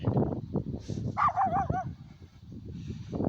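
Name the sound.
dog barking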